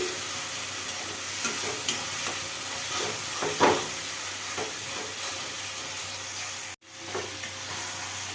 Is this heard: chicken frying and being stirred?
yes